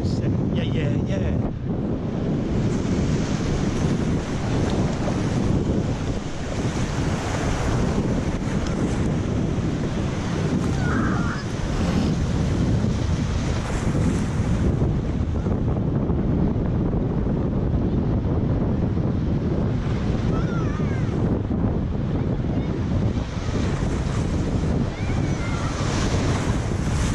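Steady, loud roar of ocean surf at a beach, with wind buffeting the microphone throughout and no clear talk.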